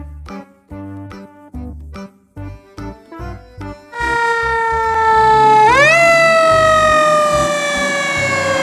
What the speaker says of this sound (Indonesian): Truk pemadam.